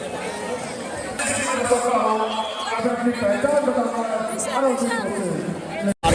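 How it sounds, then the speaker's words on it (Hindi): A large crowd at the India-Pakistan border, a dense hubbub of many voices chattering at once, fairly close and continuous, with a person speaking over the babble. "गाइस भीड़ देख सकते हो आप लोग, इतनी ज़्यादा भीड़ हो गई है"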